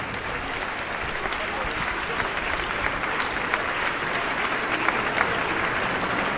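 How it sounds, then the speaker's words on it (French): A crowd at an outdoor evening rally in support of freedom of worship applauds steadily, a dense, sustained patter of many hands clapping with scattered louder claps throughout. "Je vous remercie de bien vouloir les applaudir pour les remercier."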